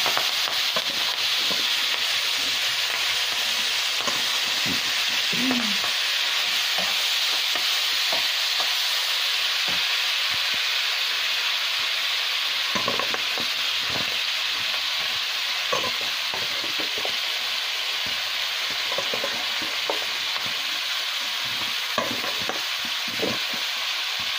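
Cauliflower and potato pieces, rubbed with salt and turmeric, fry in hot oil with a steady, continuous sizzle and occasional stirring scrapes, close and even throughout with no talking.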